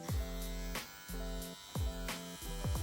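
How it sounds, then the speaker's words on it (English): A Supreme Vader hair trimmer, part of a barber clipper kit, running in steady close-up buzzing bursts that stop and restart several times, each with a sharp motor start, a strong hum and no talk. "Okay, you can feel the power in this trimmer. It's pretty quiet."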